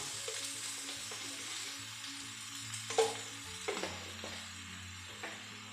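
Sliced onions frying with turmeric in a pan give a steady, moderate sizzle, with a few stirring scrapes and soft clinks near the middle.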